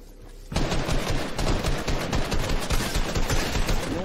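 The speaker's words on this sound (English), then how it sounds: "How are you even shooting me?" Rapid bursts of gunfire ring out in a Fortnite zone wars battle, starting sharply after half a second and continuing as dense, loud, repeated shots without speech.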